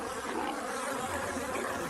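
A dense, steady buzzing of many bees fills the air, constant and close with no pauses.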